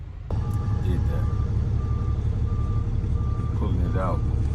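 A tow truck gives off steady, evenly spaced reversing beeps over a loud idling diesel engine while it pulls out a box truck, and a voice talks briefly near the end.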